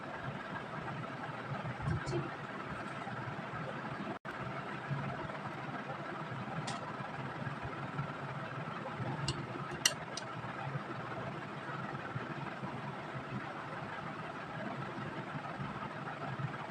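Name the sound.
sewing machine stitching neck strip of baby dress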